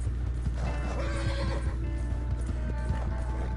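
A horse in the Red Dead Redemption II video game whinnies loudly over a steady rumble, with light clip-clop hoofbeats scattered throughout.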